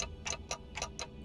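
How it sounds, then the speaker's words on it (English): Clock ticking in the video game Limbus Company, a steady run of sharp ticks, about five in quick succession, alone and fairly faint. "ticking is all I can hear"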